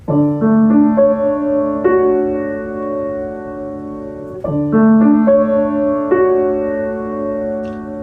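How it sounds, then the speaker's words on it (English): Piano playing arpeggiated chords where notes enter one after another and ring out, repeated twice, with a line stepping downward, clear and unaccompanied. "I'm just going to keep it simple and play a descending line"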